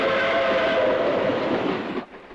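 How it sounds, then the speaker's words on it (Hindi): Train running in a Hindi comedy film scene, a steady loud rolling rumble with a faint whistle-like tone, continuous for about two seconds before cutting off abruptly. "ये रेल तो बम्बई जा रही है।"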